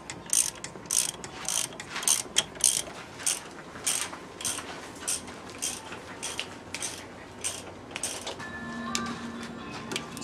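A ratchet wrench clicks in quick bursts as bolts are tightened on a Ford EcoSport engine during a water pump change. Rapid metallic pawl clicks come in repeated close runs, then quieter mechanical shuffling follows.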